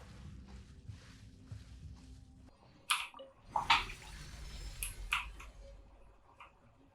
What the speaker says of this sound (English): The water level rose again